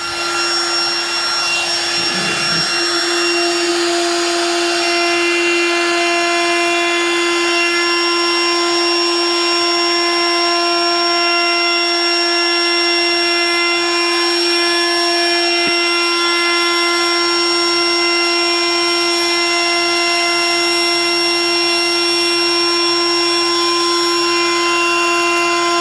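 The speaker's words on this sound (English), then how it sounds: "Now we get to routing. New router." A new electric router cutting an interior door, a loud, sustained high-pitched motor whine held steady for the whole stretch, with a brief low thump near the start.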